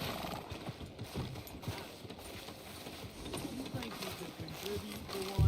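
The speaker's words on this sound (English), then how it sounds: "Tether the horse and I'll meet you across the street" A horse in a video game walks with a steady clip-clop of hooves under continuous game ambience. It sounds fairly close, and a voice is heard talking over it.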